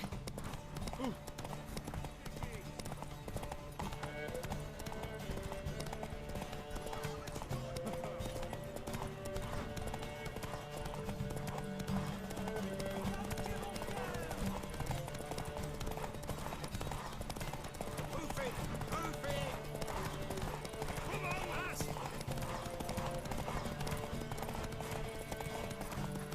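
Rhythmic clip-clop of horse hooves from The Witcher 3: Wild Hunt runs steadily under background music and voices, with an occasional horse whinny.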